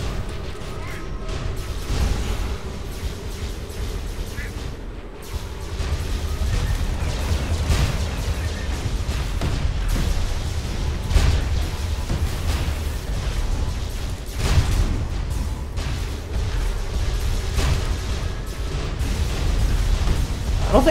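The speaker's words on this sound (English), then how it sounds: "Oh, I think it's one of those grenades." Grenade explosions in the video game Tribes Ascend, a capture-and-hold match on the Outskirts map, rumble as repeated dull booms through a dense, steady wash of gameplay noise.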